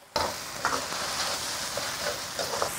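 Shredded lean pork stir-fried in a hot wok, with a continuous bright sizzle and occasional scraping stirs of the spatula, close and clear with no talk.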